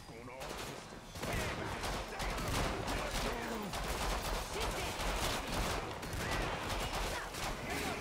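Rapid hip-fired gunfire in Killing Floor 2, a continuous barrage of close, loud shots over several seconds, with a voice talking beneath it.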